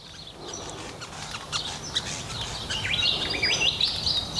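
Birds sing and chirp outdoors, a lively mix of tweets and trills over soft ambient noise, growing busier toward the end.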